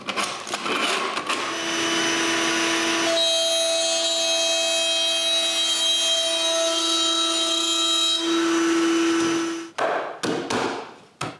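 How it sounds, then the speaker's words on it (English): A power router cuts a groove along glued-up cedar boards, a loud sustained whine holding steady for about eight seconds with no talk, between shorter bursts of workshop noise at the start and end. "When the three boards are glued together, I route a groove for the bottom."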